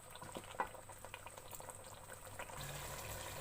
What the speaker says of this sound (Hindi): अब इसको मैं थोड़ी देर भून लूंगी और पानी भी खुश्क कर लूंगी।